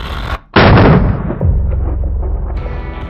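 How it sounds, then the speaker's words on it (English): A hand cannon fires once, a loud close boom after a brief hush, then a long rumbling decay and echo. "here comes the cannon"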